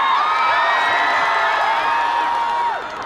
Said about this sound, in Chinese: 掌声送给尚雯婕团的6位姐姐。